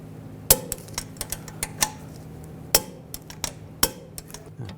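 Wrench snugging down a bolt on a car's rear upper control arm, a series of sharp metallic clicks and clinks at irregular intervals over a low background hum, close by with no talking.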